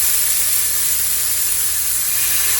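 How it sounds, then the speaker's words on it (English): Chicken pieces sizzle on a hot grill with a loud, steady, dense hiss that stays constant and close throughout, with no talk over it. "I'm going to go ahead and start putting our chicken right on top of it, and you can hear that sizzle"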